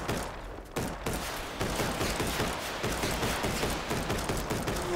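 Dense, continuous gunfire in the dinosaur-battle video game Full Metal Monsters, with rapid overlapping shots rattling loudly throughout, interrupted by a brief dip near the start, and no voices.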